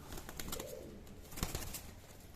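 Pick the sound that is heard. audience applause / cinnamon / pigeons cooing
pigeons cooing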